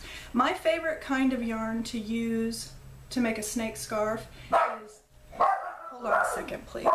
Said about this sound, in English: I'm really sorry about my dog barking like that.